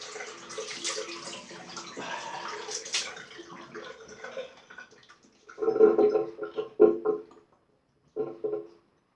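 A razor rinsed under running water after shaving, a close splashing and pouring flow, then a few short bursts of swishing water and drips.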